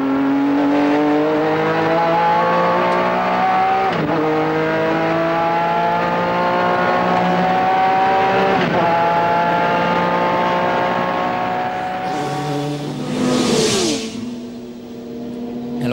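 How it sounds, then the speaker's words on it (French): A Honda NSX race car at the 1994 Le Mans 24 Hours sends out a loud, sustained high engine whine. Pitch climbs through several gear changes, with brief dips between shifts, and a hiss of wind and passing noise near the end. "nous nous retrouvons une nouvelle fois au volant de la NSX, Bertrand Gachot et Christophe Bouchu."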